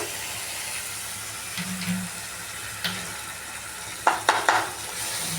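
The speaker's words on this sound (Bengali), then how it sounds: "এই চালটা এই মশলার সাথে ভাজা ভাজা হবে" Washed rice frying in a pan with cooked spices, carrots and chillies, a soft continuous sizzle with a few spoon scrapes and clanks against the pan.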